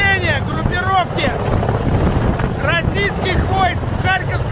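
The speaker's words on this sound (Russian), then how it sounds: "Вертолеты взлетают и приземляются фактически постоянно на нескольких точках" Russian Mi-26 military helicopters flying, a loud steady rotor drone with pulsing engine roar filling the scene, wind buffeting throughout.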